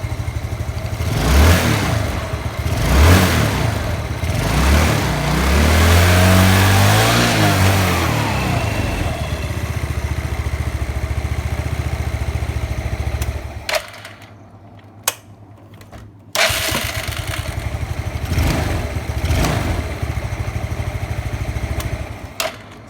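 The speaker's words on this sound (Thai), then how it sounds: "เดี๋ยวเรามาเร่งเครื่องดูที่ว่ารอบสูงเป็นยังไง" A motorcycle engine with a returned, faulty carburetor revs up repeatedly to high rpm, rising and falling whines close by, then settles into a loud steady idle with brief cutouts.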